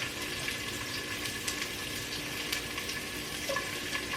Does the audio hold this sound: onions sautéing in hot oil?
yes